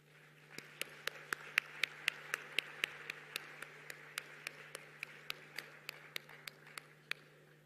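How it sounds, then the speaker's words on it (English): Applause fills a conference plenary hall at KICC in Nairobi during the adoption of a declaration, a steady wash of many hands with sharp individual claps standing out, moderately distant and sustained throughout. "A warm round of applause there as well."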